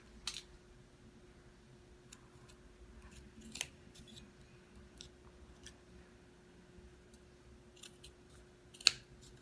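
Scissors snipping through an ear candle, a few faint, sharp cuts spaced irregularly over a quiet background.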